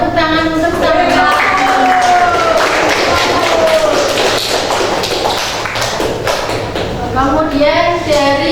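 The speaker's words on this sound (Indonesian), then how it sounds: "Beri tepuk tangan untuk Samkan." A classroom group claps for a student, a busy patter of hands that rises in the middle and then fades, while children's voices chatter over it.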